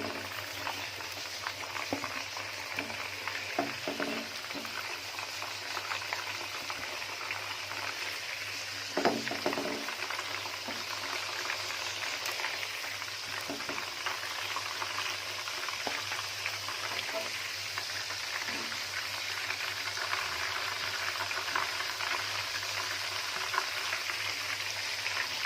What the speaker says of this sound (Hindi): अब जो बाकी चिकन बच गया था उसको भी फ्राई कर लेते हैं।